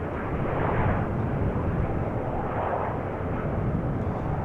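A jet airliner landing on runway 24 at Amsterdam Schiphol Airport gives a loud, steady broadband engine roar that holds at a constant level throughout.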